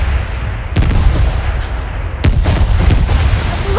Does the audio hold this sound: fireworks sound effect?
yes